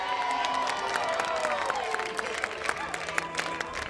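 An audience applauds an honoree recognized for 30 years of service to the ABCCMM at the opening of the 37th National show, with dense, sustained clapping and crowd noise and voices mixed in throughout.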